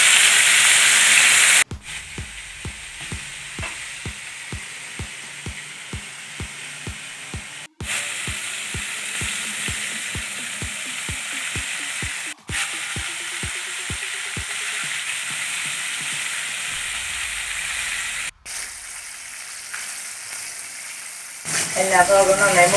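Steady loud sizzling of coated chicken frying in hot coconut oil, continuous hiss with brief interruptions and a rising bubbling toward the end.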